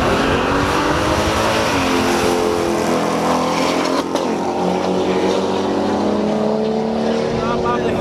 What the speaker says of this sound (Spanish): Excelente burnout de Nicolás Mantilla en el carril izquierdo